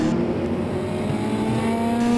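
Supercars race at Spa Francorchamps, climbing back up the hill from Stavelot, heard from an onboard camera as a loud, steady engine drone that holds a high pitch throughout, with no talk.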